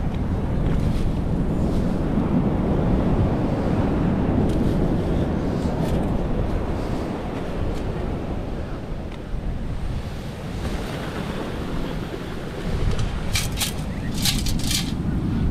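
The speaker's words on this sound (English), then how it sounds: "It's funny, like these waves are so big when they come, they just keep coming." Big ocean waves roll in and break on a beach with a 15-foot berm as the tide rises, a continuous loud roar of surf with wind buffeting the microphone throughout and a brief brighter hiss near the end.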